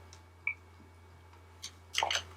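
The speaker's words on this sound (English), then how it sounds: "I had to take a drink of water there." Someone takes a drink of water at a desk between making papercraft gift card holders: a small sip, then wet swallowing and gulping sounds close to the microphone in an otherwise quiet room.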